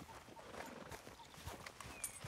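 Horse hooves clip-clop faintly in the Red Dead Redemption 2 video game, a soft, steady patter of footfalls under a bed of ambient game noise.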